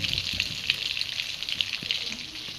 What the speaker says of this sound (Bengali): মাছ ভাজা শুরু হয়ে গেছে